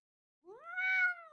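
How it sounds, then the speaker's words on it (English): A cat gives a single drawn-out meow that rises then holds, clear and close in an otherwise quiet room with no talking. "You can get a whole meow out"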